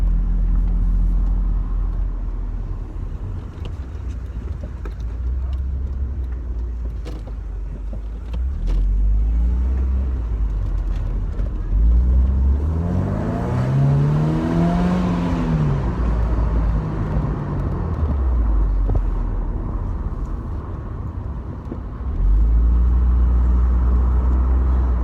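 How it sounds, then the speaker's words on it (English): A Mercedes SLK engine accelerating while driving, a steady close rumble throughout with a rising and falling rev sweep in the middle, no talk. "Accelerates well, makes quite a nice noise. Again, it's not a V8, sadly."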